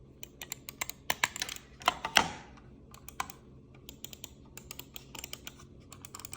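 An old-fashioned plastic computer mouse with clicky buttons being pressed, quick crisp clicks in irregular bursts, close and fairly quiet.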